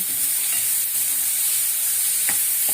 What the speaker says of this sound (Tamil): குடமிளகா நல்லா வதங்கிட்டு செல்லங்களா